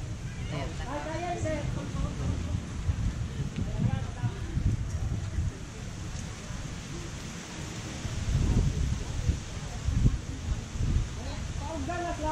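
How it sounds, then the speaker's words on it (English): Steady wind buffeting the microphone, a low rumbling roar with gusts swelling and fading throughout. "And it's windy."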